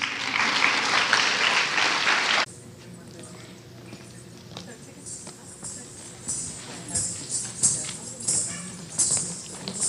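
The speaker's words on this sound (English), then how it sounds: "You can clap for Malini." Audience clapping at a Bharatanatyam dance recital: a dense burst of applause for about two seconds cuts off abruptly, followed by quieter room sound with scattered claps and bumps.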